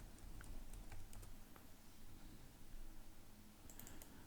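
Keys on a computer keyboard being typed to enter a search keyword in Proteus 8 circuit simulation software: a steady stream of light, quick clicks over a low background hum, with no talking.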